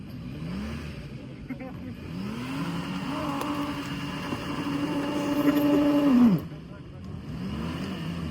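A car engine revs repeatedly off-road in a snowy forest, pitch climbing and holding, then dropping off sharply before starting to rise again; the sound is close and fairly loud.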